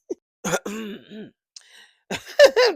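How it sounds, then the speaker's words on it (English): A short throat clearing amid bursts of a voice, with a small click at the start and a rougher guttural burst near the end. "had a nerve to clear her throat"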